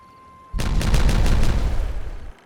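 Explosions from blowing things up in the Timberborn video game burst in as a sudden loud rumbling blast with a rapid series of crackling pops, sustained for about two seconds before cutting off.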